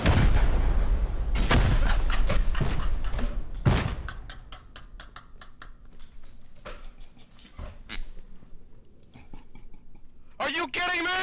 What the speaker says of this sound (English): with the game-winning rocket